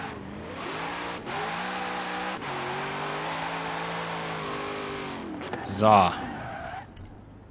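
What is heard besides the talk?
Corvette Z06 racing in video game Forza Horizon 4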